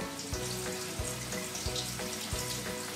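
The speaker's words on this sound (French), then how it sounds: "en le rinçant et en le frottant sous l'eau claire" Running water pours steadily from a tap while quinoa is rinsed and rubbed by hand, with soft rhythmic scrubbing underneath, close by and with no talking.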